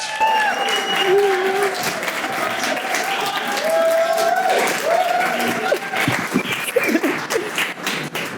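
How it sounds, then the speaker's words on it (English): An audience at an evening talk event applauds the first speaker, a dense, loud, sustained wave of clapping with cheers and voices mixed in. "First speaker, round of applause."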